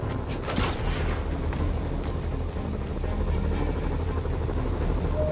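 A steady, droning helicopter rotor thrums continuously at a moderate distance in the video game Marvel's Spider-Man, with a low rumbling throb and no voices.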